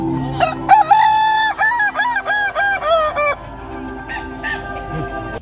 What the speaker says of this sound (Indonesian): ratusan ayam jantan endemik Kabupaten Solo, yakni ayam kukuak balengge, saling adu ketangkasan dalam perlombaan suara kokok terbanyak